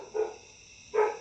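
Female dog Nebula barking indoors, two sharp close barks separated by a short pause, loud and clear with no talking over them.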